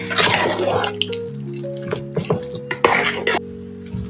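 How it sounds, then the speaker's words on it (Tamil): A spoon clinks and scrapes against a bowl while vada batter is mixed with a tempering, giving irregular metallic taps and wet stirring sounds, close and alone. "நல்லா கலந்து விட்டுற வேண்டியதான்"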